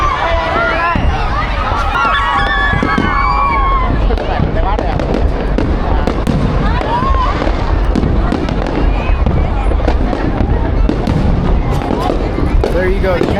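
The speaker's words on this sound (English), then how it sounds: "we have fireworks" Fireworks burst continuously and loudly over Saigon on Reunification Day, cracking and booming over a constant crowd murmur, with voices chattering throughout.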